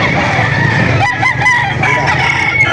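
A rooster crows loudly and close at the Padre Garcia livestock auction market in Batangas, a drawn-out cock-a-doodle-doo over clucking fowl and a murmuring market crowd.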